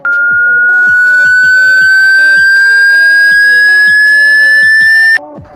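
A loud, steady high-pitched test tone holds for about five seconds, rising slightly, then cuts off abruptly; faint lower tones pulse underneath.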